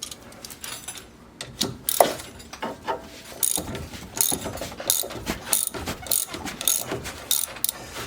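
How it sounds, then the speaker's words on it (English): A big wrench loosens the strut nut on a 2011 Dodge Charger, giving sharp, uneven ratcheting clicks and metallic clanks in short bursts up close, separated by quieter pauses. "turning the shaft in a tightening motion and loosening the nut with the big wrench"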